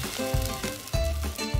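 Eggs fry in a pan at a campsite, a steady close sizzle with a few louder crackling bursts, no voices.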